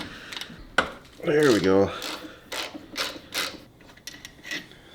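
A T50 Torx bolt on a 1995 Mustang is worked loose, with a sharp crack followed by a few short mechanical clicks and scrapes, close by, mixed with a person talking.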